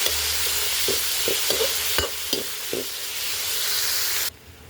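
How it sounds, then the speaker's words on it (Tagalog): Chicken sautéing with garlic and onion in a pan, a loud steady sizzle with a series of scraping stir strokes, before the frying noise drops abruptly near the end. "Lagay na natin yung chicken."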